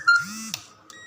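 Continuity buzzer on a multimeter beeping while a low-value resistor in an SMPS power supply is tested, a short tonal electronic beep with a few faint clicks and a brief second blip, close and clear.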